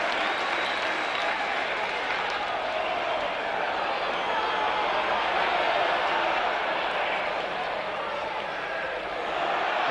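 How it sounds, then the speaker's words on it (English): Large football crowd at a 1973/74 West Ham match applauding and cheering, a dense steady roar of clapping and voices filling the whole stretch, loud and continuous with a slight swell midway. "Crowd enjoying him winning that one."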